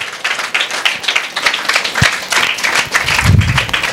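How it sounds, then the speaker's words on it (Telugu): A congregation at a Sunday church service claps for the Lord in dense, sustained applause, loud and continuous throughout. "Just give claps to the lord."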